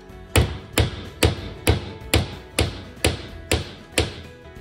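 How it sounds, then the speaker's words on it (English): A bullet being hammered into a cartridge with a Lee Loader reloading tool, nine sharp, evenly spaced hammer taps about half a second apart, close and clear with no talk. "And you hammer him in."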